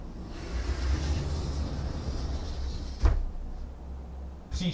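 In a Prague metro simulator on the Dejvická to Depo Hostivař run, train doors slide shut with a firm thud under a steady low rumble, followed by another knock at the end.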